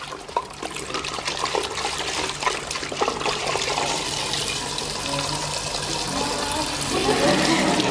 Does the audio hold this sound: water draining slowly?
yes